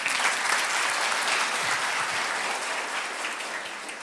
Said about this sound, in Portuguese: Pode dar uma salva de palmas de novo.